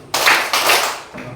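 A classroom group claps hands twice on command, two loud, ragged bursts of many slightly unsynchronized claps close by, followed by a softer trailing clap.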